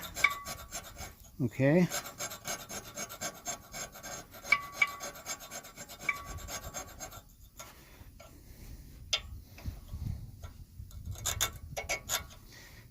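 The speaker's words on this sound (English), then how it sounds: "I found a sharp steel chisel, and can you see that rust flying?" Sharp steel chisel scraping rust off a salt-corroded car disc brake rotor, a harsh rasping grind with scattered ticks and clicks, a brief spoken word near the start.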